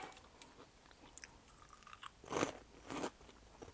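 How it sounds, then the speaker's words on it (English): Crunchy veggie straws being eaten during a gaming session: two close, crisp bites in quick succession after a near-silent stretch. "I'm munching on some veggie straws as I game"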